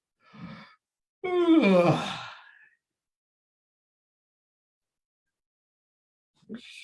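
A person yawns, a short breathy onset followed by a longer drawn-out vocal yawn with a falling pitch, then silence and the start of another yawn at the end, close and alone.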